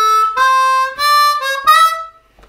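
A single blues harmonica plays the first lick of a song: a short phrase of four or five held, slightly bending notes, clear and close, ending in quiet.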